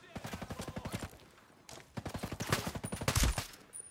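Rapid bursts of automatic gunfire from the video game Ghost Recon Breakpoint, two strings of evenly spaced shots separated by a short pause, fairly quiet and distant-sounding.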